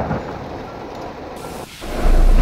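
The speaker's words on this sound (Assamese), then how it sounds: "ইমান ডাঙৰ বৰষুণ" Heavy rain falls in a dense, steady roar, with a brief dip before it swells louder again at the end.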